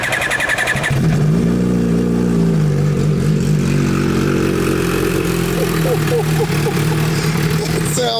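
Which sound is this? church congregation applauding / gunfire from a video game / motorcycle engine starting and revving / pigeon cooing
motorcycle engine starting and revving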